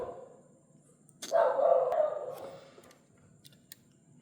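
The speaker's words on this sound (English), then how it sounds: "There are a lot of stray dogs." A stray dog lets out a single sharp bark followed by a drawn-out yelp at night, fairly close against an otherwise quiet background with a few faint clicks.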